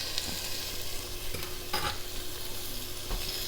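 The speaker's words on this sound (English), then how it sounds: "our asparagus are cooking too" Asparagus sautéing in a hot skillet, a continuous close sizzle and frying crackle with a few brief stirring scrapes and clicks.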